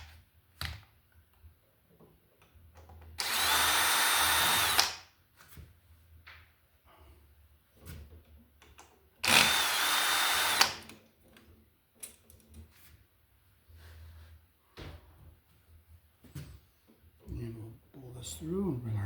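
A power drill unscrews an electrical outlet at a junction box, two loud whirring bursts of about one and a half seconds each, separated by quiet handling clicks and someone talking.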